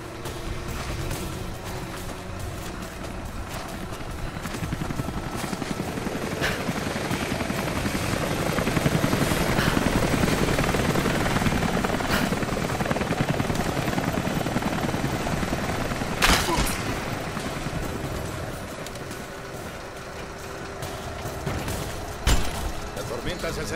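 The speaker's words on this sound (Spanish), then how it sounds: "Dentro de poco tendremos que dejar los helicópteros." Helicopters in Rise of the Tomb Raider give a steady, loud rotor roar that swells and eases over about twenty-four seconds, with sharp crackles and bangs and voices under the engine noise.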